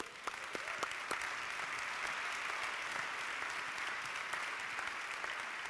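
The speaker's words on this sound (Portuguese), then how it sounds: "Vamos dar um aplauso para Ele." Church congregation applauding a sermon, a sustained even crowd of hand claps with some sharper nearby claps early on, steady throughout without speech.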